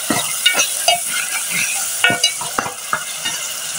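Onion or masala frying in a pan for aloo matar, with a soft continuous sizzle broken by repeated scraping stir strokes, close up, with no talking.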